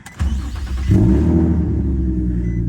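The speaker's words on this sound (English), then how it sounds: "I'm sure y'all heard that exhaust" Genesis car exhaust firing up into a deep, loud rumble that swells after a brief lower idle, then holds a steady throaty drone close to the microphone.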